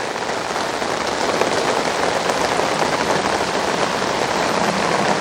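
Steady rain falls on a garden of gaura flowers and plantings, a dense, even hiss of drops hitting surfaces nearby, continuous and moderately loud with no voices.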